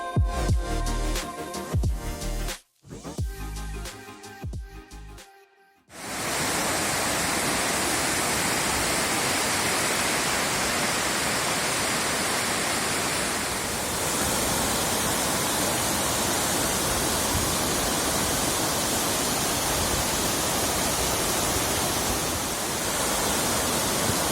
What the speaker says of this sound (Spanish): poder disfrutar de la corriente de este río que se abastece de agua de los deshielos